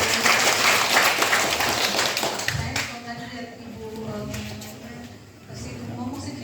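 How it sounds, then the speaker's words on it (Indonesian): Audience applause at a church community inauguration ceremony, a dense wash of clapping during the first few seconds that fades as a voice begins speaking. "Tepuk tangan untuk TCI."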